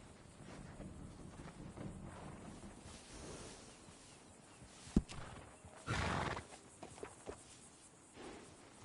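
A horse whinnies and snorts while its hooves clip-clop nearby, with a sharp knock and a louder burst of movement partway through, set against faint wind and almost no talking.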